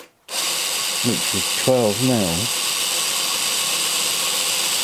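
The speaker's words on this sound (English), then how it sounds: "So we're gonna drill right in the middle of the backing piece," A power drill whirs into a wooden sign backing piece, running steadily and close through the whole stretch, while someone speaks briefly over the steady drilling.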